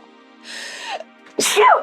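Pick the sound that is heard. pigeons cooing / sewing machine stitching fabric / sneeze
sneeze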